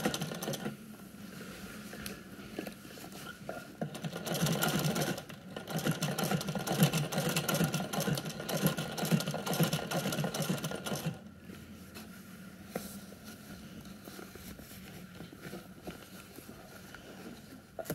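Vintage sewing machine stitching a fabric bag, a steady fast needle patter that runs loud for several seconds then settles into a quieter, slower stitching rhythm.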